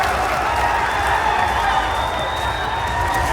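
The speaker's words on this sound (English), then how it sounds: "The crowd getting hyped." A big EVO esports crowd roars and applauds at a Street Fighter IV match, a dense, sustained wall of cheering that holds loud and steady throughout.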